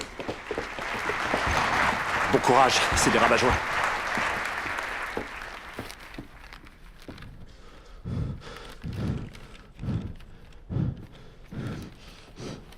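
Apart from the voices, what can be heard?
audience applauding Dwight Schrute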